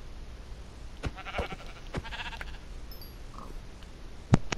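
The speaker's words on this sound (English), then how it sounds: "Oh, a gray sheep." In the Minecraft video game, a gray sheep gives a few soft, short bleats among faint clicks and game ambience, with a sharper tap near the end.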